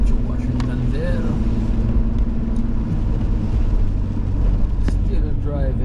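A car driving on a snowy Route 207 through the small town of Washingtonville, New York, a steady close engine and road rumble throughout, with a voice speaking briefly over it.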